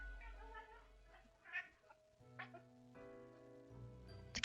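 A cat in the video game Death and Taxes gives a short run of low-pitched meows over quiet synthesized background music, the calls separate and brief.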